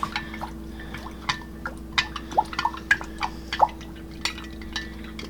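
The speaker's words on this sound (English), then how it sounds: "I'm gonna give this a bit of a stir" Pumpkin and pumpkin pie spice stirred into a latte, a close series of soft irregular liquid clinks and drips against the cup over a low steady hum, with no talking.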